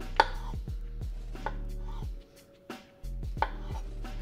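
A kitchen knife chopping button mushrooms into quarters and sixths on a cutting board for beef bourguignon, with crisp rhythmic thuds close by and a brief pause midway.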